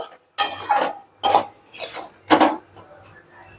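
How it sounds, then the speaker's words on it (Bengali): A lid comes off a cooking pot and a metal spoon stirs fish head cooked with Malabar spinach and pumpkin, making four distinct clattering bursts of utensil against pan, close and fairly loud, followed by softer scraping. "ঢাকনা খুলে নেড়ে নেব"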